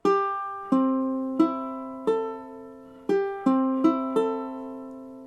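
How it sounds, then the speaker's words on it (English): A ukulele is strummed eight times in a slow, uneven rhythm, each bright chord ringing out clearly before the next. "If you have tuned your ukulele, it should sound something like this."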